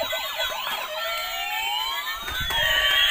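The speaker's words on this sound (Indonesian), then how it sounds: "Oke, kita nyalakan mobil ambulan untuk menemani bapak polisi." A toy ambulance siren wails in sweeping, overlapping electronic tones that rise and fall continuously, loud and close, with a steadier tone emerging toward the end and no voices.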